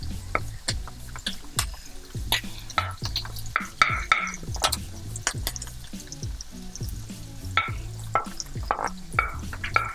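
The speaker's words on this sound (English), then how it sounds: "You're just going to toss this around until it is done." Shrimp fried rice with vegetables and egg being tossed in a hot pan, with a steady sizzle under repeated sharp scraping and clattering stirs in an irregular rhythm, close and loud, with no talking.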